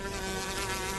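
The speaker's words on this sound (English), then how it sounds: "Swatted a mosquito?" A mosquito's thin, steady whine hovers close and continuous for about a second, alone with no other sounds.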